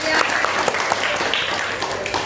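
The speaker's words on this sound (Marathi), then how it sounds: "रणवीरचं सर्वांनी टाळ्या वाजवून स्वागत करूया." A classroom audience claps together to welcome a boy named Ranveer, a dense, steady burst of applause lasting a couple of seconds, fairly loud with no talk over it.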